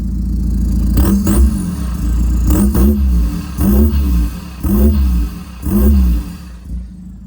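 A tuned 2014 VW Passat 2.0 TDI diesel engine with exhaust revs up repeatedly: about six loud, evenly spaced throttle blips climb and fall over a steady idle, close by and with no talking.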